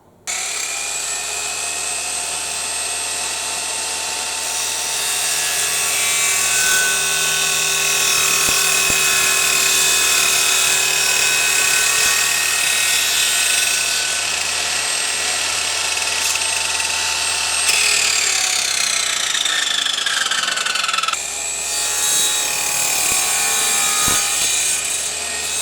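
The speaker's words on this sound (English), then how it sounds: "I can now cut them out, and I think I can do that on the mitre saw" A mitre saw on a workbench cuts plywood struts and supports, producing a long, loud, high whining buzz with shifting tones as the blade bites, a brief dip near the end, then resuming.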